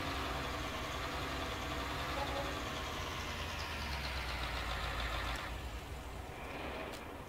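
A tractor engine runs in Farming Simulator 19 as a steady low rumble, easing off slightly toward the end, where a faint click sounds; nobody speaks.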